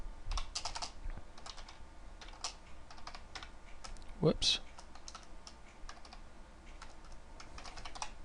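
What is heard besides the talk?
typing on a computer keyboard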